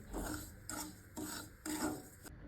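Semolina halwa stirred in a pan at home, a spoon scraping the bottom in four rasping back-and-forth strokes, close and moderately quiet, with no voices.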